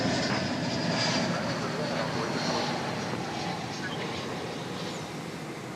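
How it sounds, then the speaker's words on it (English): A Spirit Airlines airliner arriving from Cancun at DFW Airport gives off a steady, broad jet roar that fades slightly over several seconds, with a voice talking faintly over it. "Spirit Airlines flight from Cancun"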